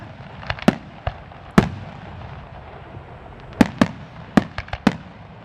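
Fireworks at a hot air balloon festival in Lancaster burst in scattered sharp bangs, some close and loud, others softer, each followed by a brief echoing tail over a low outdoor rumble.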